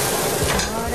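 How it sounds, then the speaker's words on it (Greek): Seafood cooked with garlic sizzles hard in a hot pan as ouzo is poured in to deglaze it, a dense, steady hiss and crackle close up with faint stirring. "Τώρα τι κάνουμε? Σβήνουμε με το ούζο."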